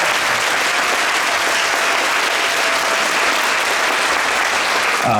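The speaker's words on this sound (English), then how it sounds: "you can give them a round of applause" An audience at a middle school band winter concert applauds seventh grade band students, a dense, loud, steady wash of clapping that fills the whole stretch without a break.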